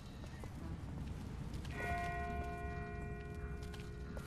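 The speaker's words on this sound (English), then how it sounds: "That's not the same bell as before. This one's further off." A distant church bell rings in The Walking Dead game, a single sustained metallic tone that enters partway through and lingers faintly over a low outdoor background.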